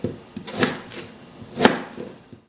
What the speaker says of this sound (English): and then we'll cut it into bite-sized chunks.